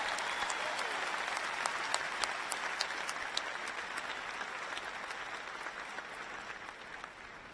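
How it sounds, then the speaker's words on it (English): A commencement audience applauding Dr. Grandin: steady, dense clapping from a large crowd that holds evenly throughout, with a slight easing toward the end. "Another round of applause for Dr."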